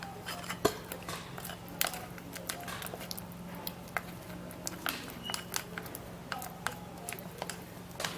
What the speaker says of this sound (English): So you have to mix and mix very well